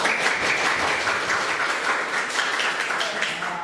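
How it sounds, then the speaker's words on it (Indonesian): Applause from a classroom of students during a lesson, steady dense clapping sustained throughout at moderate level with no pause. "Tepuk tangan untuk kita semua."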